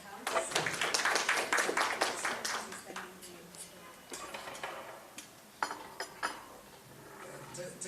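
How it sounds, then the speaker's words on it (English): Audience at an event for a therapy centre for children with autism clapping in scattered, uneven bursts, with talk mixed in among the claps. "And give him a clap as it comes."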